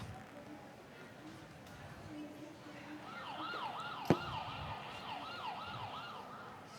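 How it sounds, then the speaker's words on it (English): An ambulance siren wails in a rising and falling pattern, arriving faintly from a distance during a staged health and safety skit at a state fair, with people talking over it and a sharp knock midway. "I can hear the ambulance."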